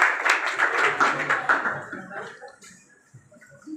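A crowd applauds at a felicitation ceremony for matriculation students in Maniyar Mahamdipur. Brisk, dense clapping fills the first second and a half, then thins out into a few scattered claps and low background murmurs.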